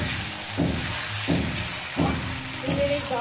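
Flat beans with turmeric frying in a pan, a continuous soft sizzle with regular stirring scrapes recurring about every second and a half, close up and without talk.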